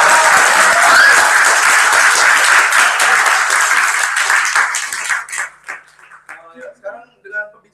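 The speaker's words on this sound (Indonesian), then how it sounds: "berikan tepuk tangan ya" A dense, loud burst of audience applause at the close of a question-and-answer session at a student association talk in Edinburgh. It fades out over several seconds, and a voice speaks at the tail.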